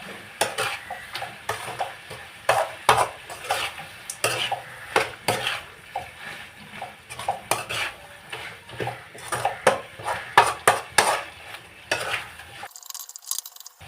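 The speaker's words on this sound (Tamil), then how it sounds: "நல்லா திருப்பிட்டுருக்கோம்." A utensil scrapes and knocks against a cooking pan while chicken gravy is stirred, an irregular string of clattering strokes with faint sizzling underneath for over twelve seconds, ending abruptly in near silence.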